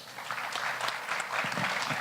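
Applause for the caterer at a gala dinner and banquet, a short burst of scattered hand claps from a seated audience, moderately loud and fairly close, heard without talk.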